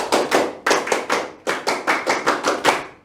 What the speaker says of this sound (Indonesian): Tepuk tangan sekali. Tepuk tangan 2 kali. Tepuk pramuka.